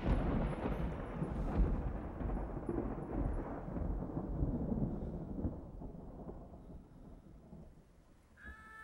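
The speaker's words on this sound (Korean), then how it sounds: "지금 창밖에 비가 내리고" Steady rain falling outside a window, a dense, even wash of patter with a deep rumbling undertone like distant thunder, gradually easing toward the end with no voices.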